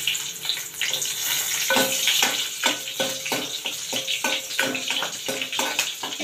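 A tempering of garlic and two broken green chillies sizzles steadily in hot oil in a pan. A bright, constant crackle is broken by rhythmic scraping taps of a spoon being stirred.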